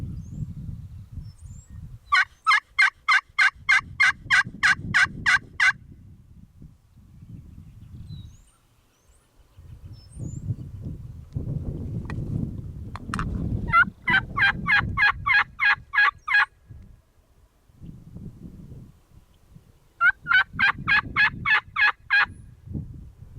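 Wild turkey on public land answering hunting calls with rapid rattling gobbles, three separate bursts spread through the clip, each a fast run of pulses, set against low rumbling wind or handling noise and otherwise quiet woods.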